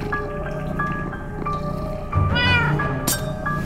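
A cat in the Minecraft Story Mode video game meows over a game soundscape with steady tones, one clear drawn-out meow standing out midway, followed by a brief sharp click.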